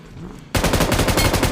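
Gunfire in a shooter video game breaks out suddenly after a brief quiet moment and becomes a loud, rapid, continuous automatic burst.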